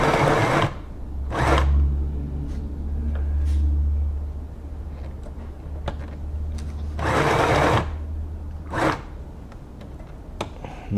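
A Singer Pixie Plus sewing machine runs in steady whirring bursts as it stitches, stopping and starting between runs with faint clicks in the pauses.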